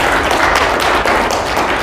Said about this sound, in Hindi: अब बजाओ धूमधाम से ताली